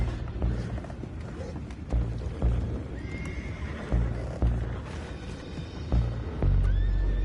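Horses neigh and whinny amid clip-clopping hooves and a busy, rumbling Red Dead Redemption 2 game soundscape with repeated heavy thumps.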